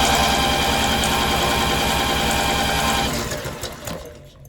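Lawnmower engine being cranked over during a spark test, a dense, rapid mechanical chugging that holds steady for about three seconds, then tapers off and stops.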